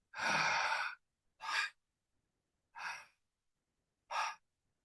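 One long relaxed exhale through the mouth before a breath hold, followed by three shorter, softer breaths separated by silence, close and alone.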